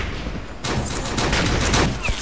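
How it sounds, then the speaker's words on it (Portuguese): Gunfire in the Uber Strike video game on the Sky Garden map, with a sudden loud burst that rises into a sustained crackling barrage lasting about two seconds, likely including a sniper rifle shot. "Primeira vez que eu consigo matar um cara assim com a sniper."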